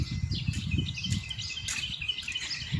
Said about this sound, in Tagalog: Ang ingay po ng mga kalapati,